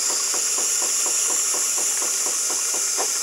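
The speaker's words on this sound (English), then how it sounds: "I guess it's steaming because just now there was a lot of steam that came out." A hotel coffee machine steams milk with a steady loud hiss and a fast rhythmic pulsing rattle underneath, continuous and close.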